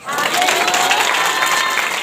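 Audience clapping at a Hindi church sermon, a dense steady patter of many hands running throughout, with some voices mixed in underneath.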